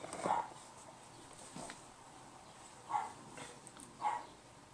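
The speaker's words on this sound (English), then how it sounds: "As soon as my dog shut the fuck up, I can start recording" A dog barks indoors in a few short, separate bursts spaced about a second apart, faint and somewhat distant against a quiet room with no talking.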